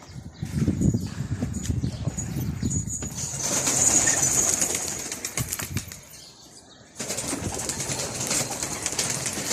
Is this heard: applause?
no